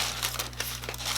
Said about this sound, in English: they did come with all their dust bags, with the beautiful light blue tissue paper